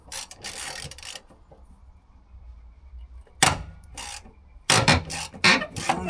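A ratchet on a comically long extension works loose fasteners on the interior parts of a 1984 AE86 coupe, with short bursts of rapid clicking and rasping separated by quiet pauses, close up.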